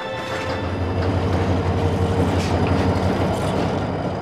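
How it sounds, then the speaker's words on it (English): A train runs along a railway track in southern Africa, a steady loud rumble with a low droning hum and faint rail rattle that holds through the whole stretch with no voices. "even this train and the track it rides on lie at the heart of my story"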